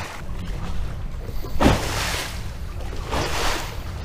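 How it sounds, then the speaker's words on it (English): Lake waves slap and wash against a fishing boat anchored near a bridge piling, a rough irregular sloshing with a sharp thump midway and wind buffeting the microphone, no talking. "except for the fact that these waves suck"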